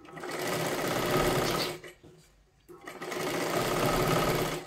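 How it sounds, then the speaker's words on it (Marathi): Sewing machine stitching a silky-fabric katori blouse, a loud steady mechanical whir that runs continuously, drops away briefly in the middle, then resumes at the same close, even pace. "हा सिल्की कपडा तुमच्याकडे आला तर अशाच पद्धतीने शिलाई करा"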